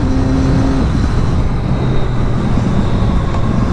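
Nearby, a Triumph Daytona 675 three-cylinder motorcycle engine runs continuously, its idle note dipping briefly and then settling into a rougher, rumbling drone.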